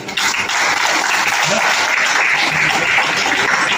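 Dense, steady applause from a ceremony audience at a Vishva Hindu Parishad foundation day event welcomes a guest onto the stage, a loud, continuous wash of clapping that runs unbroken throughout.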